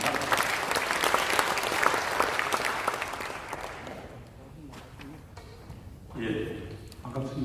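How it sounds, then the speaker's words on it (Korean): Loud audience applause fills a church hall as a law professor is welcomed to a lecture event, the clapping swelling steadily before fading away after about four seconds into quieter room noise and a few scattered claps. "우리 큰 박수 경례해 주시기 바랍니다"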